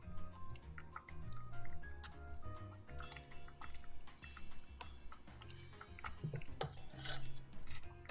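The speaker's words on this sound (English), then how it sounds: "And a nice stir so you guys can see the thickness." Thick cheesy fondue dip stirred in a pot, soft faint wet clicks and ticks in an irregular rhythm, close and quiet, with no talking.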